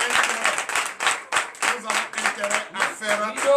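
Congregation clapping at a Sunday church service in Comè, Benin, in a rhythmic, steady pattern of repeated beats, moderately loud, with voices and some tonal sound mixed in.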